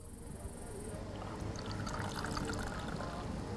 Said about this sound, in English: Let's pour the brew and add some hot water.